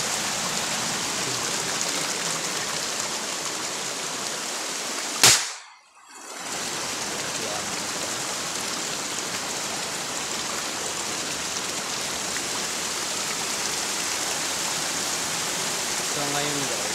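A mountain river rushes in a loud, continuous wash of noise, cut by a brief dip in the middle before the flow returns.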